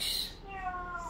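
A cat gives a single drawn-out meow, fairly quiet and close by.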